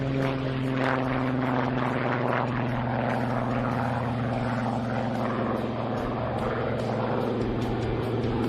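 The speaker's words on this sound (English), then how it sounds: "we will see this display of some of World War II's most iconic airplanes as they take" Vintage World War II propeller airplanes take off at the Las Vegas Aviation Nation air show, their piston engines producing a loud, steady, droning roar that holds throughout.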